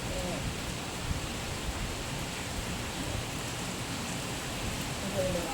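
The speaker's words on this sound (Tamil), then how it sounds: "செம்ம மழை பெய்யுதுங்க." Heavy rain falling at night, heard as a steady, even hiss that fills the whole stretch with no voices over it.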